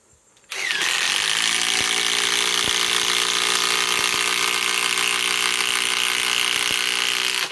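A Metabo HPT WH18DDX cordless impact driver hammers a 5-inch ledger lock screw into wood in one loud, continuous rattling burst lasting several seconds, close up and alone.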